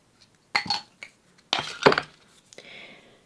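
Watercolour paint being mixed in a ceramic mixing dish: a few separate clinks and scrapes of a brush against the dish, close and fairly quiet, with short pauses between them.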